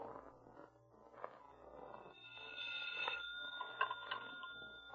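A telephone rings quietly in a hushed room, the bell tone rising out of low background noise partway through and repeating in short pulses until the end.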